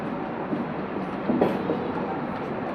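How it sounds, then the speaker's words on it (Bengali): The Darjeeling Mail pulls out of Jalpaiguri station with a low steady rumble and a faint rhythmic rattle of carriages, a muffled wash of rail noise that swells slightly midway. "আর ট্রেন চলে যাচ্ছে দার্জিলিং মেল হলদিবাড়ির উদ্দেশ্যে"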